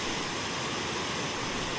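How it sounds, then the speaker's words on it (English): Old Man River Falls in southern Alberta churns at high flow, a loud, steady, dense roar of rushing water that fills the whole clip with no pauses or voices. "This is the Old Man River Falls, and in my completely biased opinion, it's the most beautiful waterfall in southern Alberta."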